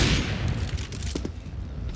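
Gunfire in a Counter-Strike style shooter during a competitive match, a burst of close, sharp reports at the start followed by a few more scattered shots over steady background game noise.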